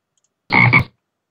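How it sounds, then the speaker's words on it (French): A frog croak sound effect played from a phone app, one short raspy double croak that is loud and close, isolated in silence before and after. "un son de grenouille."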